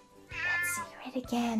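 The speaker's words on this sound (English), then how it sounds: "It's a kitty cat!" A cat gives a drawn-out meow, close and clear, and a voice speaks alongside it.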